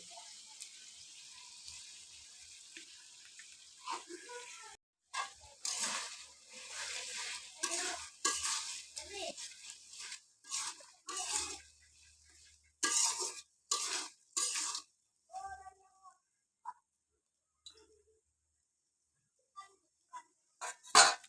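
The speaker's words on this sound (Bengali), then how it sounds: "এবার এটুকু নাড়িয়ে দিলাম" Biryani meat is stirred in a pot in bursts of scraping and clattering, with quiet pauses between strokes and a faint sizzle underneath, fading to sparse taps near the end.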